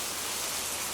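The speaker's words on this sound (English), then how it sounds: "little bit of spinning of rain turned into a torrential downpour" Torrential downpour of rain pouring onto a hotel overhang, a dense, steady hiss of heavy rainfall close by with no pauses, filling the whole second.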